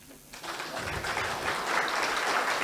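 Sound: audience clapping

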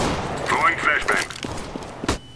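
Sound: flashbang thrown in Counter-Strike: Global Offensive, video game

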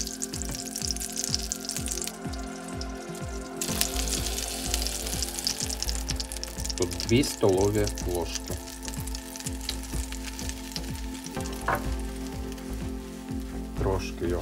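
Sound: flour frying in butter in a pan

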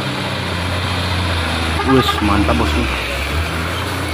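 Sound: Volvo FM 260 Ti truck engine climbing hill

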